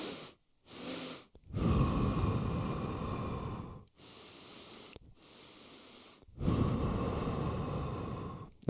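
Nasal breathing demonstration for staying calm while surfing: a long exhale, then two separate sniffing inhales through the nose with a pause between them, close and fairly loud, with no talking.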